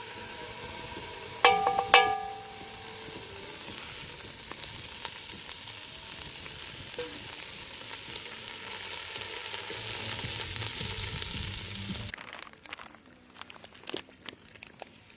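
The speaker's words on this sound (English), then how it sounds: "First thing we want to do is get our bacon going." Bacon fries over a campfire with a continuous sizzling hiss and a few clinks near the start, the sizzle fading to quieter crackles and scattered taps near the end.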